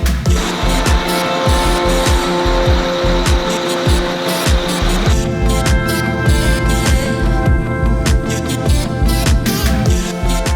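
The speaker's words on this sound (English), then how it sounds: "Then it was time to start warming up the engines." Boat engines running in a loud, steady mechanical roar with layered tonal hum and rhythmic pulsing, close and continuous throughout, with no talk over it.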